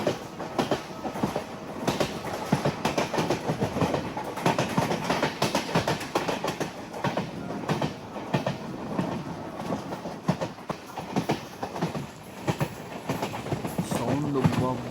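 A passenger train on the Kadapa to Arunachalam route rolls along the rails with a steady rumble and rhythmic clatter of wheels, loud and close, with a voice talking briefly over it.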